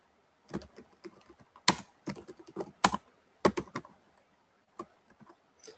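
Bursts of clicking keystrokes on a computer keyboard during a Unix shell session, irregular clusters of taps with short pauses between, close and crisp over near silence.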